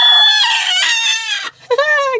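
A hen gives a loud, close, agitated squawking cackle, a long drawn-out call followed after a brief pause by a couple of sharper clucks.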